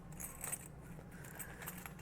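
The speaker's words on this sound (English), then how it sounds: "If I put this in along with the keys, I can kind of maneuver around so it's more flat" Car keys and a key fob jangle and clink inside a small men's neck bag: a few light metallic rattles close by, loudest near the start, then softer shuffling.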